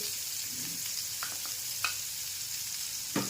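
Chopped green chili and onion sauté in hot oil for instant rava appe, a steady close sizzle with a few soft stirring scrapes and light clicks, no talking.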